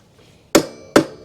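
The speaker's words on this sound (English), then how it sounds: "now tap it with the plastic hammer" Two sharp, close taps from a plastic hammer striking a metal nut and peg on an Onyx RCR motorcycle, spaced under half a second apart, each with a short ringing decay.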